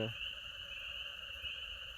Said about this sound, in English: I'm out here just listening to the frogs, making all their noises.